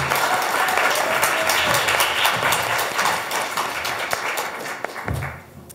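Warm applause from an alumni panel audience for a speaker, a full, steady patter of many hands that thins and fades near the end.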